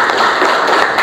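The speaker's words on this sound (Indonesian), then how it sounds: "tepuk tangan buat yang lain" A classroom of students clapping together in a brief, dense burst at a school, steady and fairly close with no voices over it.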